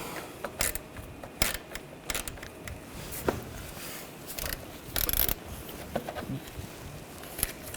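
Knock sensor bolts being snugged down on a 2009-2017 Volkswagen Tiguan engine make quiet, irregular sharp tool clicks and taps, spaced apart and heard alone.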